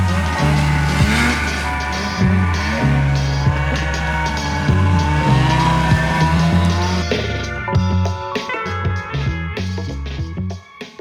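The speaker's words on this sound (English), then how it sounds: "it's time for one more snowmobile ride to the cabin." Snowmobile engine droning loudly and close on a ride to a cabin, a steady throaty roar with shifting pitch as it revs and eases off.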